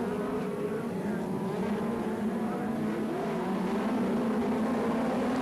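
USAC National midget race cars accelerate together at the green flag start of an oval race, a loud continuous engine roar that holds steady throughout.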